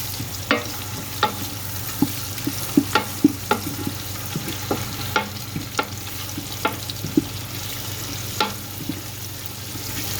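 Tomato paste frying in oil in a big pot, a steady sizzle under repeated scraping and clacking strokes of a spoon being stirred, close up with no talking.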